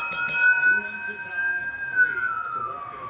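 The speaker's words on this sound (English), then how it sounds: "The sirens are going off." Siren sound effect during a football card case break, a single tone gliding up and holding before sliding down, heard over people talking.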